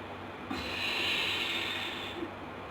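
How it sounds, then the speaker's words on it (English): One long, slow, deep breath drawn in through the nose during a lymphatic breathing exercise, a soft airy hiss lasting under two seconds between quiet pauses. "First take a very deep breath and just watch my belly"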